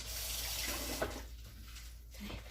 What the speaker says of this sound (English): Let's get some water on my hands.